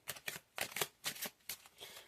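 A deck of tarot cards is shuffled by hand close up, making a run of quick papery riffles and flutters in short irregular bursts, with no talking.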